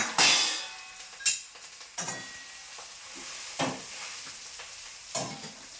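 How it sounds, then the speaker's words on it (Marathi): Chickpea greens are stirred in a hot pan, a spoon scraping and knocking against the metal every second or so over a low, continuous sizzle. "आता हरभऱ्याची भाजी टाकलेली."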